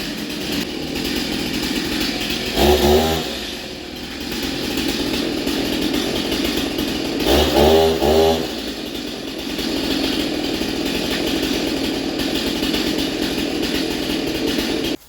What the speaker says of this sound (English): I'm gonna let that warm up for a few seconds, and I'm gonna cut through the first layer